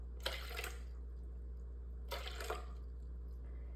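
Water for sourdough is poured into a bowl in two short bursts, a splashy trickling pour followed by a second shorter one, fairly quiet over a steady low hum.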